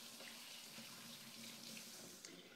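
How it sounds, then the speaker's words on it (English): Kitchen tap water runs in a steady, unbroken stream while hands are rinsed under it, quiet and close with no talking. "Rinse my hands."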